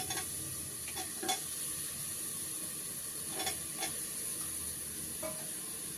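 Fried potatoes being stirred in a frying pan in a home kitchen, a steady low sizzle broken by a few scraping stir strokes of a spoon against the pan, close and fairly quiet, with no talking.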